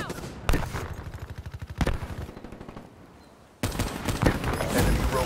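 Rapid bursts of automatic weapon fire in a Call of Duty: Black Ops III multiplayer match, loud and close, with two long sustained strings of shots, a short gap, then another heavy volley to the end.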